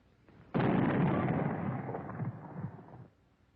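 A WW2 Canadian anti-tank rifle firing with a recoil reducer: a single heavy blast that hits abruptly and rolls into a dense rumbling tail lasting over two seconds, loud and alone with no talk.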